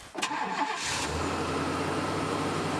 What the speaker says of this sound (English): We're going to start up the truck.